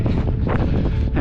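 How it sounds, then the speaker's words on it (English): Strong wind gusts roar and buffet the microphone on a hillside single-track trail, loud and continuous throughout the short stretch with no clear speech. "It's really windy"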